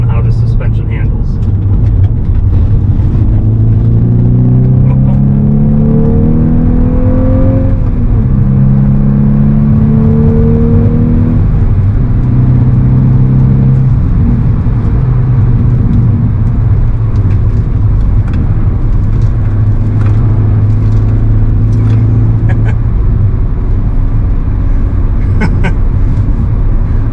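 A Volkswagen Golf R driven for a suspension test, its engine whirring and revving loudly from inside the car, rising in pitch through several gear changes before settling into a steady drone.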